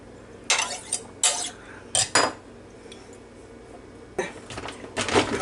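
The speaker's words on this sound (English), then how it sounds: "We're going to stir it up a little bit and get it blended in." Chili sauce is stirred into a meatball mixture, giving a few scattered scrapes and clinks of a utensil against the bowl, fairly quiet, with no talking.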